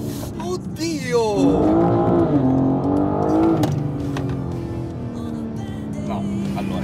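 A BMW M4 G82 Competition tuned to 600 hp with a new exhaust revs hard up close, its engine note climbing and falling in loud sweeps before settling into a lower rumble, with a voice talking over it.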